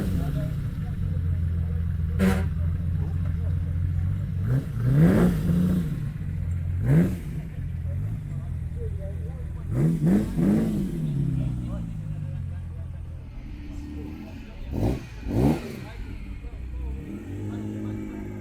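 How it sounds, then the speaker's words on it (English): A Lamborghini Diablo at an Italian car day at Brooklands, UK, revs and accelerates in several loud bursts, its engine note climbing and falling through repeated sweeps over a steady background rumble. "The Diablo bringing some noise."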